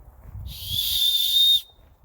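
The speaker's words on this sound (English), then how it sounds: "Not the best whistle in the world" Small plastic safety whistle built into a backpack sternum strap, blown once in a single shrill, steady high-pitched blast of about a second, close and clear with no talking.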